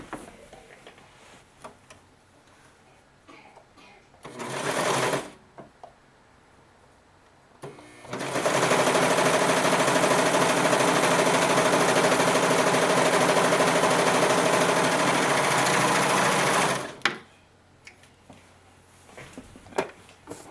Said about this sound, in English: Now I'm going to serge the seam.